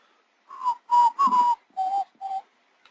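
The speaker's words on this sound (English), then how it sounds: "Sorry about the whistling." A person whistles a short tune of five clear sustained notes, close and fairly loud, with no talking over it.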